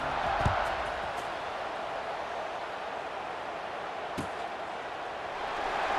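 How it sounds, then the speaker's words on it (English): Stadium crowd in the EA Sports College Football 26 game, a dense continuous roar and buzz of many voices filling the space at steady moderate level, with a couple of faint thuds. "this crowd is buzzing after that last score"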